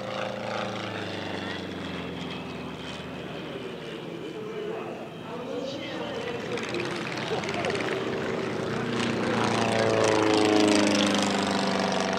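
Propeller aircraft at an airshow make a formation takeoff, their engines droning and building from a rough rumble to a louder, rising roar over about twelve seconds, with a commentator talking throughout.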